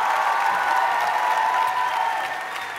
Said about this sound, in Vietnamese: một tràng pháo tay nồng nhiệt cho Stray Jay và vũ đoàn Bước Nhảy